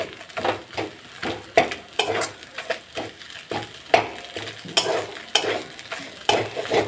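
Rice being stirred in a pot on a gas stove, with repeated scraping and scooping strokes over a soft sizzle, close and fairly loud, in an irregular rhythm.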